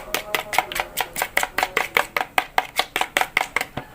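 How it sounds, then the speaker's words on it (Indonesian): Eggs, yolks only, beaten in a bowl for catfish bait, a fast regular series of sharp clicking strokes, about four per second, close and loud with no talk. "Dan telurnya kita kocok dulu ya"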